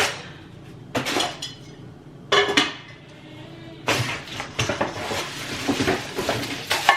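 New pots, pans and lids clink and clatter in three bursts of close metallic knocks during unboxing in a new apartment kitchen, with quieter rustling in between and busier clanking toward the end.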